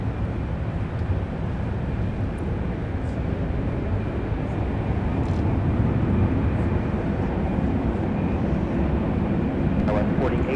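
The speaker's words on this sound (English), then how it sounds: "Delta 9er Heavy with the A330 900EO is about to touch down here in just a moment." A Delta Airbus A330-900neo touching down on runway 12 right at Minneapolis–Saint Paul airport, heard as a steady, loud broadband roar lasting throughout, with faint voices in the background.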